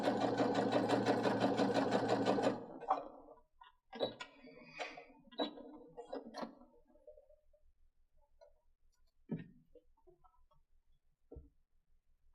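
A sewing machine runs in one fast, steady burst while topstitching a water-resistant picnic blanket, then stops. Scattered clicks and handling taps of fabric and the machine follow in near silence.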